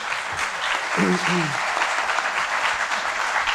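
Steady applause from an auditorium audience at a conference on fiscal and customs dispute resolution, fairly loud and continuous throughout, with a brief voice sounding through the clapping.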